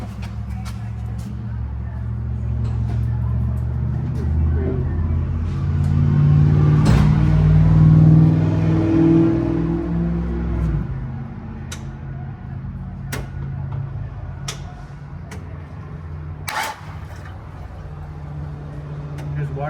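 A car engine with water leaking onto the exhaust cranks and catches, swelling into a rough, loud idle that settles into a steady low run, while people talk nearby.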